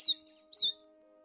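A bird in The Book of Unwritten Tales 2 video game gives three quick, bright chirps in close succession, clear and near over a faint steady hum, then falls silent.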